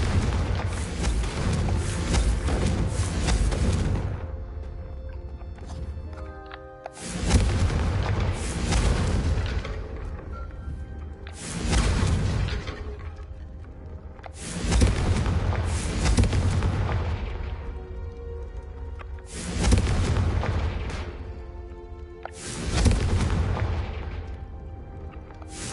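Repeated Confringo explosion spells in the Hogwarts Legacy video game, five loud booming blasts spaced a few seconds apart, each one decaying before the next.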